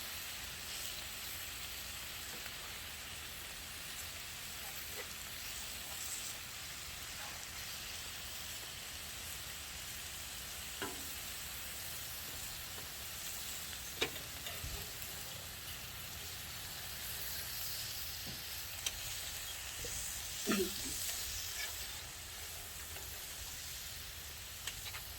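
Breakfast food sizzles on a 36-inch outdoor flat top griddle, a steady, even frying hiss throughout with occasional soft taps and clicks from a spatula.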